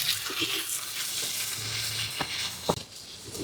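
Potatoes frying with onion and tengra fish in oil over a clay stove, a steady close sizzle with light stirring scrapes and a brief louder clatter near the end.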